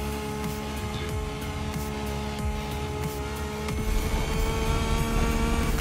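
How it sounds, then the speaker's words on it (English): A car engine in the racing game The Crew Motorfest revs high and whines continuously, with gear shifts and a rising roar toward the end, game-like and steady. "Oh, this thing revs just so high."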